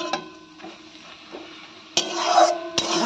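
Kalmi (water spinach) greens being stirred in a frying pan, with soft scraping and rustling of leaves against the pan and a louder burst of stirring near the end, faint sizzle underneath.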